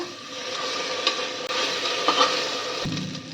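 Onion frying lightly in a pan for dalia pulao, a soft, close sizzle with a few stirring scrapes and utensil knocks over a few seconds.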